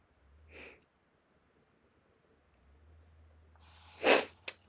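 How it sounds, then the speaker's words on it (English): A single loud sneeze from a person with allergies comes near the end, preceded by a soft sniff and followed by a short sharp snort. Quiet room tone fills the gaps. "And I apologize for my sniffles. We're just having fun with allergies today."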